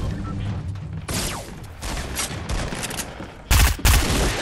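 Video game gunfire rattles in bursts at enemies, sharp loud shots and clattering volleys, with the heaviest impacts near the end.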